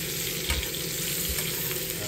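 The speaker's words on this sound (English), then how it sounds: "I'll just cook my steak for a couple of minutes on each side." Steak sizzles steadily in a buttered pan aboard a narrowboat galley, a close, even crackle with a couple of soft stirring bumps and no talking.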